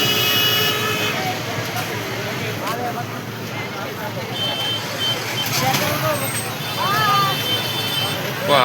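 Crowded market street traffic jam in Bidkin with a large vehicle stuck in it: a constant roar of engines and crowd noise, scattered horn toots and beeps, and people talking throughout.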